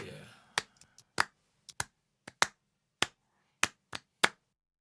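Loose, uneven hand claps in a rough rhythm, about ten sharp close slaps spaced irregularly as if by a tipsy crowd, over a faint low instrumental bed in a pirate-style music track.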